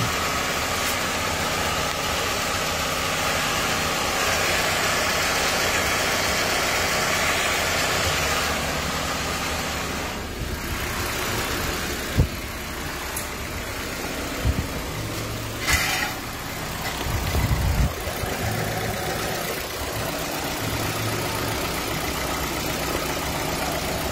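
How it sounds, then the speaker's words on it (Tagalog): A Kia Rio engine idles low on oil, a steady mechanical drone with a faint knocking running through it, plus a few louder clunks and bumps partway through. "Possible nga po kaya lumalagatak ito mga boss, kulang yung oil"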